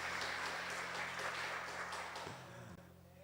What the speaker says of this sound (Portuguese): Vamos aplaudir a Aurélia aí.